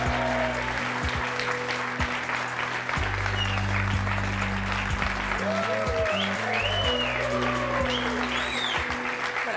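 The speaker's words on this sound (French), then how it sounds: "je vous demande de l'applaudir" Studio audience applause on the set of a French TV talk show, a steady wash of clapping running through the clip alongside low background music, with a few faint voices mixed in.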